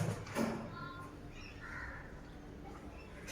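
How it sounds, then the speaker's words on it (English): Birds call outside a flat in Vile Parle, Mumbai: a few faint cawing and chirping calls at a distance, heard over low steady background hum with no talking. "Can you hear the birds chirping sound?"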